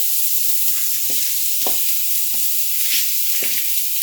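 Grated carrots and onions fry in a pan with a steady, loud hiss of sizzling, broken by soft scraping and stirring sounds close by.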